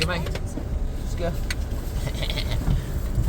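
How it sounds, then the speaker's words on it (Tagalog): A car engine runs steadily to recharge a drained battery, its low rumble continuing close by under people talking throughout. "Hayaan muna natin lumandar yung sasakyan para makapag-charge yung battery."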